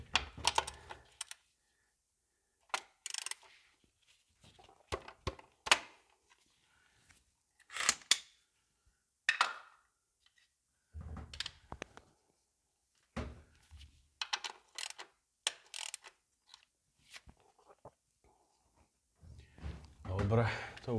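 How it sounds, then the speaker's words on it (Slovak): A new telescopic ratchet wrench clicks at close range during routine servicing of a VW Golf 4 1.9 TDI, coming in short bursts of rapid clicking separated by quiet pauses. "vyskúšam si novú račňu."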